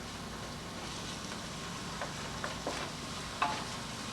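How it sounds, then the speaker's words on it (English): Garlic, endive, shallots and onion sautéing in a pan give a steady, close sizzle, with a few brief stirring scrapes and clinks near the end and no talking. "We'll saute these for a few minutes"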